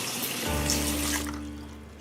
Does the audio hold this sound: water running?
yes